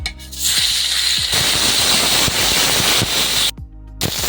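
Fish sliding into hot mustard oil in a wok, bursting into loud, dense sizzling and crackling that runs on steadily with brief spattering pops.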